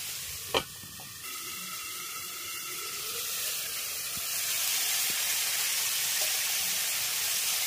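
Pumpkin and potato curry simmering under a lid on low heat, a steady soft sizzle and hiss of steam that grows slightly over time, with a brief sharp clink near the start and occasional light knocks.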